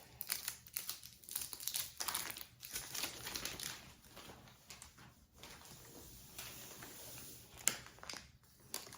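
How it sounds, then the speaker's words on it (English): Tape is pulled and pressed onto the side of a Gabby's Dollhouse Easter basket, with close crinkling, rustling and handling noises running in uneven bursts throughout, and no talking. "So I'm gonna get my tape and throw it on the side."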